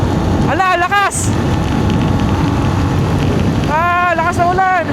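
Heavy rain pounding down on a scenic road in Pangasinan, a loud constant hiss of downpour and wind buffeting close to the microphone, with brief shouted voices near the start and end.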